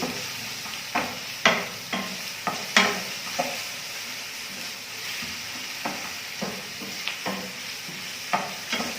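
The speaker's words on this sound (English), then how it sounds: "So you're going to let your onions cook until they turn their color." Onions fry in a pan with a steady sizzle, broken by repeated sharp scrapes and taps of a spoon stirring them at irregular intervals, close and clear.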